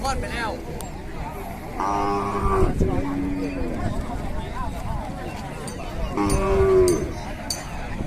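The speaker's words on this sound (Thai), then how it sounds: "ตั้งแต่เกิดมาผมเคยเห็นครับวัวหางแย่" Cattle moo at a rural cattle market in Sisaket, Thailand, with two long, loud lowing calls close by, one early and one near the end, amid background chatter and farmyard noise.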